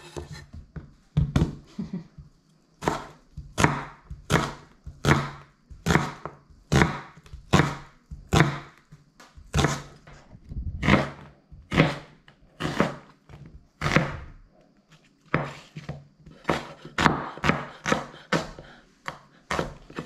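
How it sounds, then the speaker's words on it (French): A knife chops onions on a cutting board in a steady run of crisp, close thunks, about one or two per second with short pauses, and no one speaks. "Une fois l'opération de l'éminçage des oignons, ça s'est bien passé"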